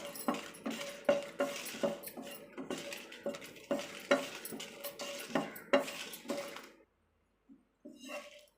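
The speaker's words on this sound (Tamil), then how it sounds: "நம்ம காஞ்ச மிளகாய் வந்து வெறும் பேனில் வந்து வறுத்துக்கலாம்" Dried red chillies are dry-roasted in an empty pan while a spatula stirs them, making steady rhythmic scrapes and clinks for several seconds. The stirring then stops, leaving near-silence broken by a couple of faint knocks.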